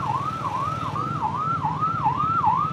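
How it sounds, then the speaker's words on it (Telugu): An ambulance siren wails in Hyderabad city traffic with a steady, repeating rise-and-fall tone, clear and fairly close over a low road rumble, with no talk. "అంబులెన్స్ ఈ ట్రాఫిక్లో నుండి వెళ్ళడం అంటే చాలా కష్టం"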